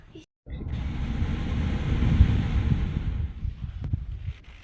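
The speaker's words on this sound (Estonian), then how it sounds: "Jõhker tuul." Strong, cold gusty wind roars steadily close to the microphone after a brief silent gap, a continuous low rushing blast with no clear talk.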